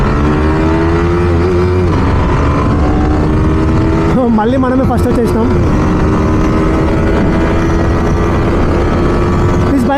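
Engines of a 2024 and a 2022 Yamaha R15M motorcycle in a drag race, a steady loud drone whose pitch climbs and shifts midway, with wind buffeting and someone talking over it.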